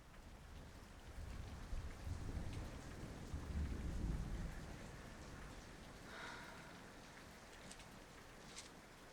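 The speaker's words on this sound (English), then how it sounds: "It's raining cats and dogs." Heavy rain pours down steadily as a dense hiss, with low rumbling thunder swelling in the middle and then fading, and no voices.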